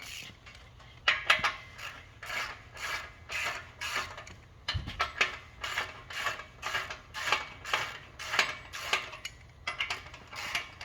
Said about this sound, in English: You can use the wrench probably to just screw it out.